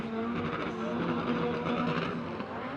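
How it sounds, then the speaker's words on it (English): A Chevrolet Nova drift car screams at high revs and bangs repeatedly off the rev limiter, its engine note stuttering while sliding sideways at a drift competition, with tire noise and a commentator talking over it. "Nova slamming off the limiter."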